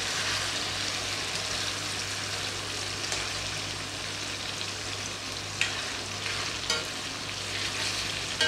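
Mutton and lentil curry bubbling in a pan on the stove, a steady close sizzle and simmer with faint utensil clicks near the end.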